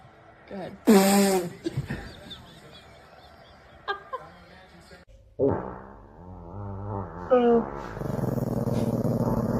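A dog growls and snarls in short, close bursts separated by pauses, ending in a longer rumbling growl, with people talking and laughing in between.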